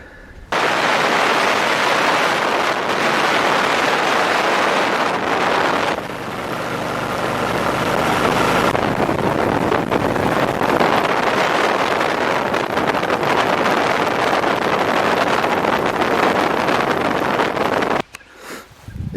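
A 1999 Kawasaki Drifter cruiser fitted with fishtail pipes on a test ride, its engine droning steadily and close under heavy wind buffeting for most of the stretch, with a brief dip near the end.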